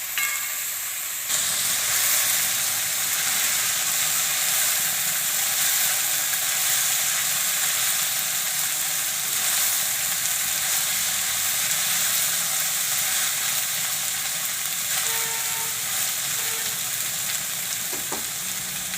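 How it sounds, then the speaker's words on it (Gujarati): Sprouted moth beans sizzle and fry steadily in hot oil in a home kitchen pan, a dense continuous hiss that runs unbroken for the whole stretch with no talking over it. "તો હવે આપણે આને તેલમાં સડવા દેવું."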